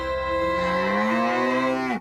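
A cow moos in one long, loud, drawn-out call lasting about two seconds and rising slightly in pitch. It plays as a sound effect in a radio advertisement and is heard alone, with no talk over it.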